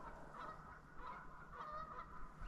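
A flock of geese honking repeatedly in the distance, their calls overlapping and faint against quiet outdoor background.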